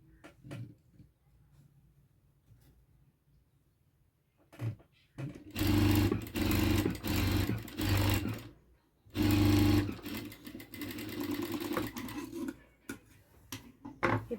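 Sewing machine stitching an aari work blouse: two loud, close bursts of rapid mechanical whirring, with soft handling clicks and quiet gaps between them.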